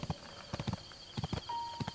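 Hooves of a ridden deer or antelope in Breath of the Wild clop in a quick, steady galloping rhythm, close and fairly loud, running through the whole short stretch.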